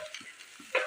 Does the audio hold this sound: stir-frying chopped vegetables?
yes